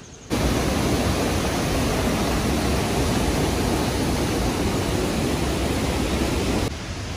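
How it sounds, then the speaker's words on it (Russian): Steady broadband rush of a river near thermal waterfalls at Pozar Baths in Greece, continuous and fairly loud with no talk, holding even for several seconds before easing slightly at the end. "Слышен шум реки."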